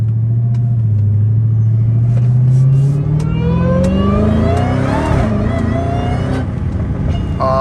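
An 800-horsepower Dodge Challenger Hellcat Redeye engine revs hard and climbs steadily in pitch as it accelerates at night, loud and close, with a brief gear change near the end.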